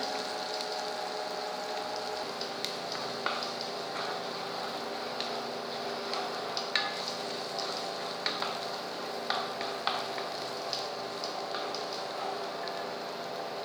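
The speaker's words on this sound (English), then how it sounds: "then add chopped onion, and saute for 2 minutes." Chopped onion sautés in a pan for poha, a steady close sizzle like light rain with occasional sharp crackles and faint stirring scrapes, no talking.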